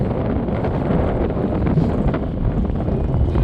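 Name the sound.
strong wind at night by the sea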